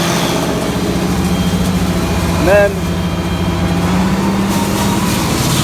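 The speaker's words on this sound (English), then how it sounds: "then I'll go get the tractor some more RPM because I throttle it down" IH 1486 tractor running a New Holland 354 grinder on ear corn, its engine a loud, steady low drone throughout, with a brief rising whine midway and a few words spoken over it.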